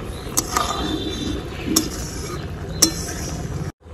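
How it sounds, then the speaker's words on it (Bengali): Shukto vegetable curry stirred lightly in a pan, a low steady simmering hiss broken by three distinct spoon clinks against the metal, close and moderate in level, ending abruptly. "হালকা করে নাড়া দিব যাতে ভেঙে না যায়।"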